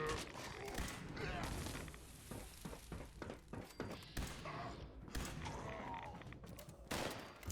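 Laser gun fire in Fallout 76 rattles out in rapid, loud repeated bursts against enemies, dense sharp shots running almost continuously with brief gaps.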